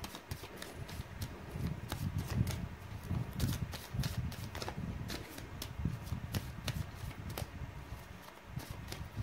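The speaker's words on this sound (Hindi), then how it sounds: "मैंने कर ली है कार्ड्स की सफलिंग" A deck of tarot cards is shuffled by hand in a rapid series of riffling flicks and soft slaps over about nine seconds, close and fairly quiet, with no one talking.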